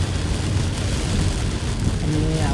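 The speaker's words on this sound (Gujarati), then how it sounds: "બપોરના 1:30 વાગ્યામાં જ આ ફૂલ વરસાદ ચાલુ થઈ ગયો છે" Heavy downpour on the Kosindra-Bodeli road, heard from inside a car with wipers running fast: a dense, steady roar of rain that stays loud and unbroken throughout, with no talking.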